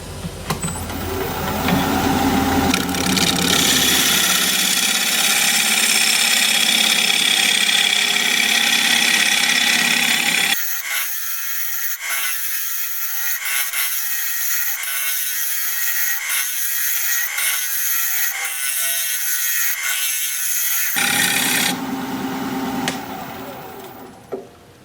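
A bench grinder sharpens a wood turning tool: a loud motor whine runs throughout, dropping to a thinner high-pitched grind with regular scraping strokes in the middle before the full roar returns and fades.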